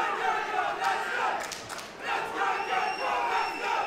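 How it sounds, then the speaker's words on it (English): An MMA fight crowd roars and cheers in waves at an AFC event, with loud swells and dips in the arena noise and no clear individual voices. "Crowd getting right behind Gokhan right now."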